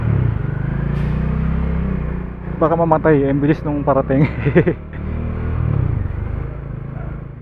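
A Bajaj Dominar 400 motorcycle engine rumbles low and steady in the rain, continuous at the start and end, while someone talks over the middle stretch.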